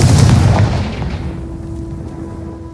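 The Confringo blasting spell explodes in the video game Hogwarts Legacy, heard as a loud booming blast with a deep rumble that decays over a couple of seconds, with no talk.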